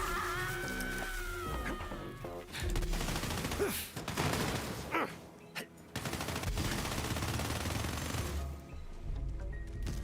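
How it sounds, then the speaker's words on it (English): A minigun in the shooter game Borderlands 3 fires in rapid bursts, dense crackling volleys that stop and restart several times over about ten seconds, loud and close. "And you got this big minigun."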